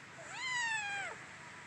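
A cat in a home garage lets out one clear, drawn-out meow that rises, holds and falls away, close and alone with no talking.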